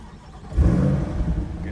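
A 2023 Corvette C8 70th Anniversary Edition's 6.2-liter V8 cranks and fires, settling into a low, rumbling idle, close and fairly loud.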